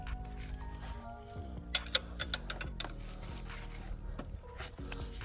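A 17 mm wrench works the belt tensioner nut on a 2013-2017 Honda Accord engine, producing creaks, squeaks and a few sharp metallic clicks and knocks at close range.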